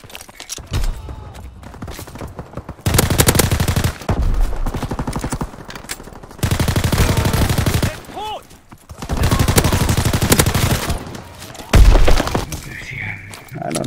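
Gunfire from a WW2 video game: long bursts of rapid machine-gun fire alternate with quieter stretches, loud and close, with people talking in between.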